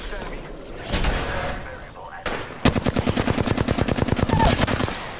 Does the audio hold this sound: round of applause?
no